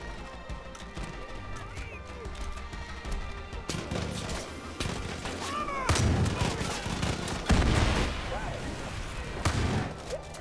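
Heavy shotgun blasts boom out in Far Cry 5, a few sharp, loud reports spaced seconds apart over game noise and faint voices.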